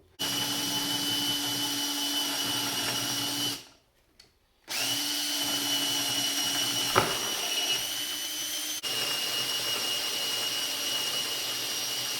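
Power drill boring a straight perpendicular bolt hole for a woodworking machine mobile base, a loud steady whine that stops briefly, restarts and runs continuously for several seconds, with no talk.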